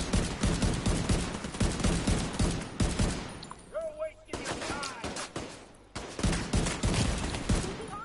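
Enemy gunfire in The Division 2 comes as dense bursts of rapid shots, loud and close, broken by a short lull with faint electronic game tones before the firing resumes.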